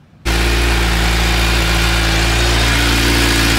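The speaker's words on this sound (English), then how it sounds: "manual says to warm the bike up for 3 minutes on the side stand" A 2023 Suzuki Hayabusa motorcycle engine starting from near silence and settling into a loud, steady idle while warming up on the side stand, a close and constant low drone.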